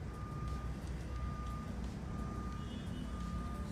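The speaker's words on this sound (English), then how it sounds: "You can hear a backup noise there from a truck." A truck reversing sounds its backup alarm: faint, distant, evenly spaced single beeps repeat under a steady wash of outdoor background noise.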